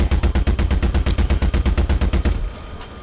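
Rapid automatic gunfire from the Star Citizen video game, a fast even stream of loud shots for about two seconds that cuts off, leaving a quieter tail.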